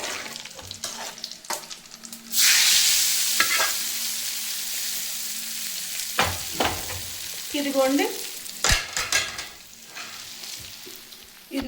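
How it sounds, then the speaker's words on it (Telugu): Tempering spices hit hot oil with a sudden loud sizzle that keeps crackling, while a spoon clatters and stirs against the pan and a voice briefly speaks, for cucumber chutney. "ఇది కొంత తాలింపు ఎర్రగా వేసుకున్నాం కదండి"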